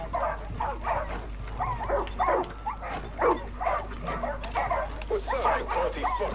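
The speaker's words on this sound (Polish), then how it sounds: "Jezu, ile psów tu." Several dogs bark repeatedly in Far Cry 5, a steady run of overlapping barks and yips at close to mid distance, with a person talking intermittently over the barking.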